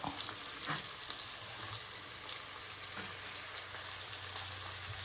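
Garlic, green chilli, curry leaves and onion fry in oil for a bitter gourd thiyal, making a constant close sizzle and hiss with a few faint clinks from stirring.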